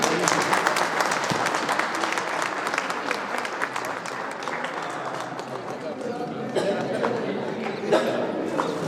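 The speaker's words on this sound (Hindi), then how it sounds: "एक बार जोरदार ताली और स्वागत करें बाबू जी का।" A crowd applauds steadily at a retirement function, with sustained clapping from many hands throughout and voices mixed in.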